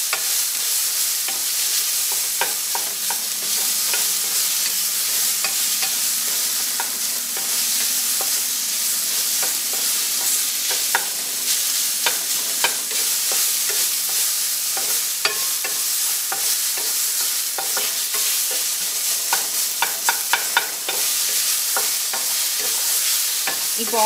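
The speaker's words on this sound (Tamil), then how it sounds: "அதையும் வதக்கிக்கோங்க." Coconut and onions sauté in a pan for a Chettinad egg curry, an even, continuous sizzle with frequent scraping strokes of a spatula throughout.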